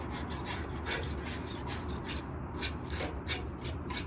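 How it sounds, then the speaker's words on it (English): A hand scraper rasps repeatedly over the steel stern of a narrowboat, stripping off old paint in a steady rhythm of close, gritty scrapes. "just scraping the kind of the big bits off, and it is coming off"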